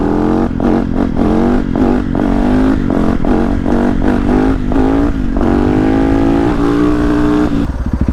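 A Yamaha YZ450F supermoto engine revs hard up close, loud and rough, its pitch climbing and dropping through repeated throttle blips before a steadier high rev and a sudden cut at the end.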